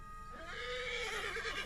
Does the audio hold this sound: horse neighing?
yes